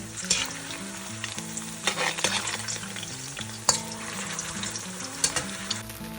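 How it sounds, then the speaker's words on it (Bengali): Potatoes frying in hot oil, a steady close sizzle with stirring clatters and occasional sharper pops, under soft background music. "প্রথমে আমি আলুগুলোকে ভেজে নিচ্ছি"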